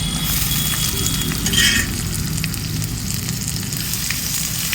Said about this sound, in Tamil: நம்ம தக்காளி கட் பண்ணி வச்சுருக்கோம், அதையும் சேர்த்துக்கலாம். எல்லாத்தையும் நல்லா வதக்கி விட்டுக்கலாம்